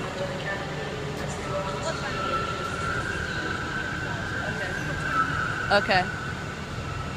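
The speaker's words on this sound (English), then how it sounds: "Oh, listen to those brakes." Train brakes squeal at Glasgow Central Station, a long sustained high whine drawn out across most of the moment amid station hubbub and rumble, with a brief voice near the end.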